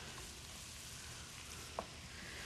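Cabbage browning in a hot pan gives a faint, steady sizzle and crackle throughout, with a single small clink partway through.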